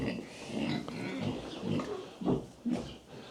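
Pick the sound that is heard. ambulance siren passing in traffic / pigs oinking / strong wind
pigs oinking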